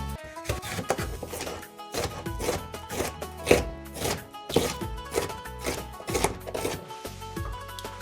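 A cabbage is cut in half on a board for chicken vegetable spring rolls, giving a string of crisp knife chops at an uneven rhythm, close and fairly loud, with background music running underneath.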